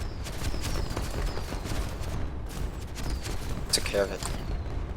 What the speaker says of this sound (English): Has anyone else seen the firework display at Warp Gate?